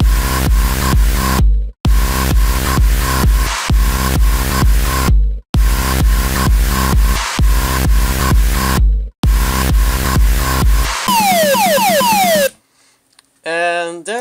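Electronic dance drop remade in FL Studio, loud pulsing synth chords in repeated bars with brief gaps, ending in a falling sweep and a short quieter tail.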